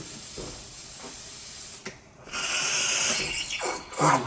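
An espresso machine's steam wand sprays water in loud hissing bursts before milk is frothed, with a brief pause and then a stronger, sustained spray close by.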